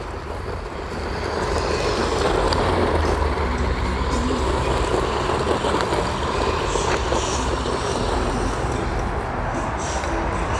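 Hosim ZENO X05 brushed RC truck running at full throttle outdoors, a steady continuous motor whine and rolling noise at a constant loud level with no talk.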